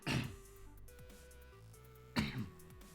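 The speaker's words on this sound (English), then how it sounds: "Sorry, I'm coughing, guys." A person coughs or clears their throat twice, quiet and close, one short burst at the start and another about two seconds later, with near silence between them.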